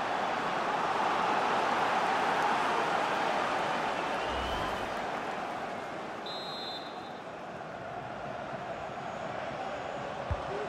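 A stadium crowd in FIFA 23 during Manchester City vs RB Leipzig, a broad continuous roar of cheering that swells early and eases slightly later, steady and distant-sounding.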